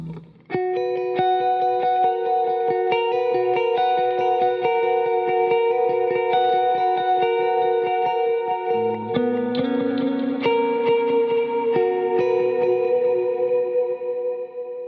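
An electric guitar plays sustained notes and chords drenched in wet reverb and delay, tones ringing and overlapping as they trail off.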